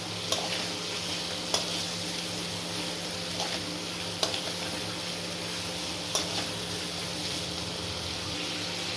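Egg fritter curry being sautéed and stirred in a pan, a steady sizzle of frying with occasional sharp scraping clicks of the spoon against the pan, close by and continuous.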